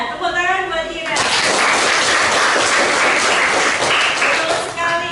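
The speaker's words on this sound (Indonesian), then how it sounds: "tepuk tangan buat Kira" A classroom of students bursts into applause for a classmate, a dense, loud wash of clapping that swells and holds for several seconds, with a voice heard briefly at the start and end.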